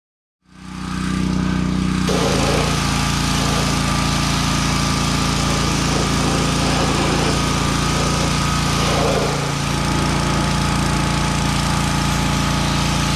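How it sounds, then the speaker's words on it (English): Gas-engine power washer blasting barnacles off a boat hull and outdrive, a loud steady engine drone joined by a continuous broadband water-jet hiss that starts abruptly and runs unbroken, with small shifts as the spray moves. "then I went back to the power washer."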